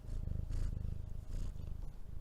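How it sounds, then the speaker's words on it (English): A pet cat purrs close to the microphone, a soft, steady low rumble pulsing in regular breaths, heard alone and quiet. "Can you hear her purring?"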